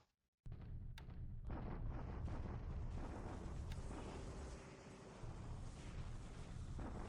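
Naval bombardment in the War in the Pacific video game: after a brief silence, a rumbling, continuous roar of artillery fire and explosions erupts, loud and dense, with a few sharper cracks over the sustained barrage.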